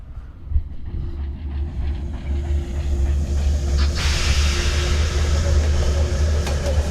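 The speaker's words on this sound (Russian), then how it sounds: "Это поезд якобы." A train passes through a foggy scene in the Sherlock Holmes: Crimes and Punishments video game, a steady low rumble with hiss that swells and stays loud, with no talk.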